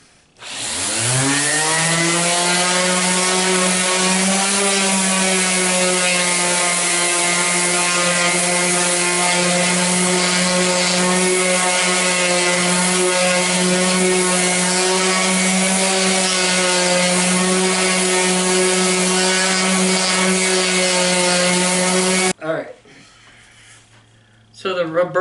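An electric power sander runs steadily and loudly on body filler for about twenty seconds with a strong buzzing hum, then cuts off abruptly near the end.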